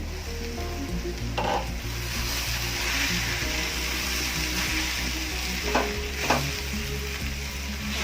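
Papaya and katla fish-head curry with potatoes stirred in a covered pan, a steady close sizzle under a low hum, with a few sharp scraping knocks of the spoon against the pan partway through.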